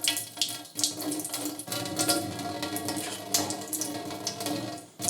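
Water carrying floating debris splashes and trickles steadily as it is poured out of a container of soaking tomato seeds, close up and alone.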